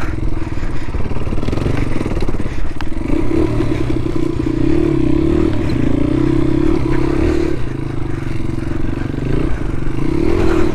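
An XR100R dirt bike rides along an enduro track, its small engine droning steadily up close, with rattling and scraping clatter over the constant motor note throughout.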